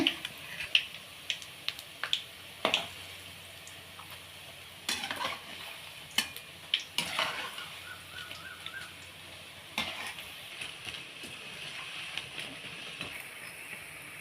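Urad dal and coconut milk kunukku fritters sizzle steadily in hot oil while a utensil stirs them, scraping and clinking against the pan with irregular sharp knocks over the continuous frying hiss.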